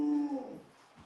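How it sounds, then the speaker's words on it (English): A dog whimpers indoors in one drawn-out, high, falling whine that trails off within a second, fairly close and clear with no talk over it. "Sorry, my dogs are being obnoxious."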